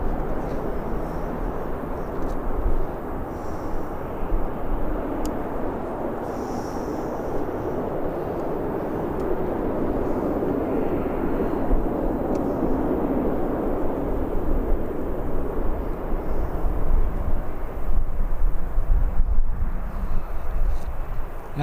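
A jet airliner departing Birmingham Airport, a steady loud broadband roar that swells toward the end, heard alone without talk.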